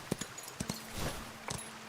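A horse trots along in the video game Where Winds Meet, its hooves giving soft, uneven clip-clops in two brief pairs with a pause between them, close and quiet.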